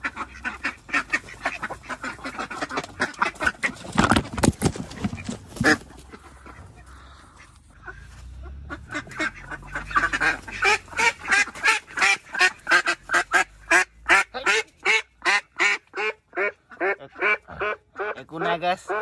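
A duck quacks loudly and close, first in scattered bursts and then in a long, rapid, steady run of repeated quacks, with people talking in the earlier part.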